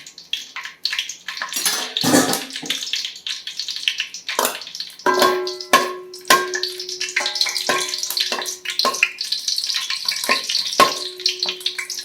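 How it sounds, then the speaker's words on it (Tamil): Green chillies drop into hot oil and fry with a loud, bursting sizzle and crackle, settling into a steady hiss broken by sharp spatters and stirring scrapes. "இப்போ எண்ணெய் காயமும் இந்த பச்சை மிளகா 4 மிளகா வச்சுருக்கோம் பாருங்க, வாசமாக இருக்கும். மிளகாய் போடும்."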